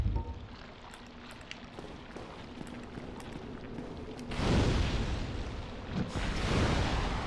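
A pyromancy fire spell launched at a slime in the video game Dark Souls, a low rumbling whoosh that swells suddenly into a loud, dense roaring burst and crackle after a quieter ambient stretch.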